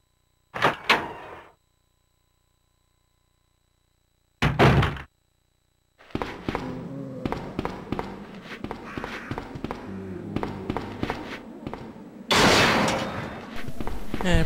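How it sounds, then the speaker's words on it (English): A gate opening in the Resident Evil 2 video game, with a couple of heavy metallic clunks separated by silence, then a longer stretch of clattering, scraping mechanical movement ending in a louder grinding burst. "I appreciate you opening the gate since the game won't let me do it"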